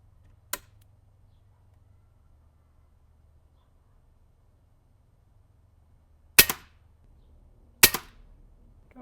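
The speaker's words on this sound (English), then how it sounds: "Now let's try and shoot this at a couple more spots here," Three rifle gunshots fired while testing a 5-50x60 competition scope outdoors, one sharp crack early and two more close together several seconds later, each loud and brief against near silence.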